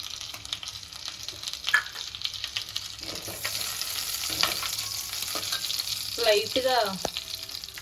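Prawns frying in a pan for a prawn and egg curry give a steady close sizzle throughout, with occasional stirring scrapes and a brief clatter near the end.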